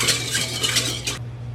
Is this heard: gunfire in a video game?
no